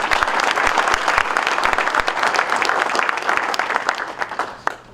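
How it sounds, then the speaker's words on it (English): A seated crowd at a golf professionals' meeting breaks into sustained applause, dense and steady from start to finish with no talk over it, tapering slightly at the end. "Can we give them a round of applause for their"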